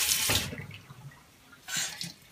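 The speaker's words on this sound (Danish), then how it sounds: "Det er sindssygt lækker vand, der kommer ud fra den her vandhane." Water gushes from a bathroom tap in two short bursts, a loud splashing rush at the start and another about a second later, with quiet between.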